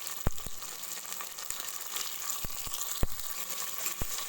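Tomatoes tipped into a pan of lightly browned onions for chicken biryani, bringing a steady broadband sizzle with a few sharp clicks and taps scattered through, close and moderately loud, no voices.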